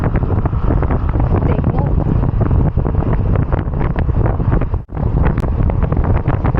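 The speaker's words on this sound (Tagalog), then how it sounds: "Lakas ng hangin ah." Loud, constant wind roars and buffets against the microphone of a cyclist riding at about 32 to 35 km/h, with a voice speaking briefly beneath the rush.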